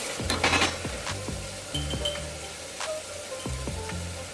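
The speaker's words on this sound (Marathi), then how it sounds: "बारीक करून घेतलेला मसाला तेलात चांगला परतून घ्यायचा आहे।" Ground masala fries in oil for Kolhapuri misal with a steady sizzle, while a metal spoon repeatedly scrapes and clinks against the pan in several short bursts, close by and with no voices.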